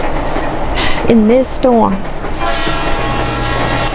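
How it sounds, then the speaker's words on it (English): A slow train rolling along the tracks in a storm sounds two rising horn blasts over a steady rumble and rattle, with someone narrating over it. "The train wasn't fast."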